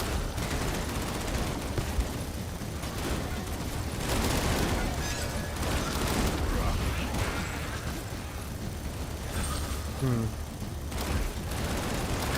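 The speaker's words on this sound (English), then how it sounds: "It's a sniper shooting at me." Sniper gunfire in a video game, scattered sharp shots and bursts mixed into a dense, steady wash of game noise, with speech over much of it.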